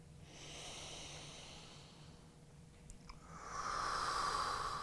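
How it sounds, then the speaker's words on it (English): Slow, deep breaths held through an intense hip yoga stretch: a soft hissing inhale, a pause, then a longer airy exhale, close and quiet with no talking. "we're going to do 3 deep breaths here"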